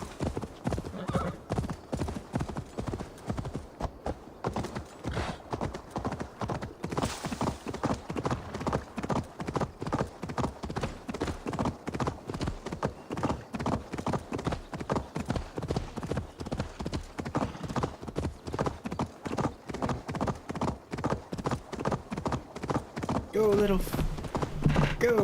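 In the video game Assassin's Creed Valhalla, a horse gallops with steady, rapid hoofbeats and an occasional whinny throughout. Someone talks now and then over the hooves.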